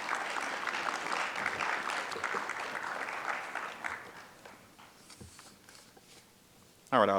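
Audience applause for a guest speaker and her team at a group violence intervention conference, a dense clatter of clapping that thins out after a few seconds and trails off to sparse claps.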